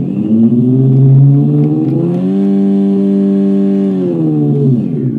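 An ebike sound generation module plays a synthetic sports-motorbike engine note through a speaker, a loud steady buzzing hum that rises in pitch as if revving, holds, then drops back, with no talking.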